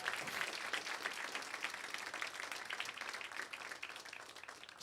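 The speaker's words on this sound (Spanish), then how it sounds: "Denle un aplauso a nuestro Dios hoy en este día." A church congregation applauds during a worship service, dense and sustained clapping filling the room at a fairly even level throughout.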